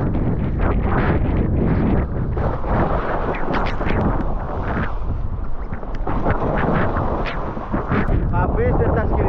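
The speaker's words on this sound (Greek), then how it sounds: "Έχει αρχίσει η βροχή, βρέχει πάρα πολύ, ο αέρας έχει τρελαθεί, αλλάζει κατεύθυνση όλη την ώρα." Strong, gusting wind roars continuously across the microphone while kitesurfing in a rainstorm beneath the Rio–Antirrio cable-stayed bridge in Greece, loud and buffeting with shifting surges, and a voice is partly audible beneath it.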